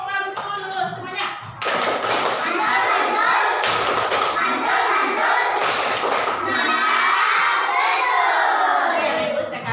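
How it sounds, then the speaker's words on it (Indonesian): Classroom children clapping a rhythmic clap chant together at a teacher's prompt, loud bursts of sharp claps mixed with young voices chanting and shouting. "Kasih tepuk mantul dulu semuanya"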